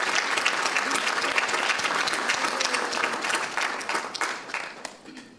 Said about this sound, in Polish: Brawa, wielkie brawa.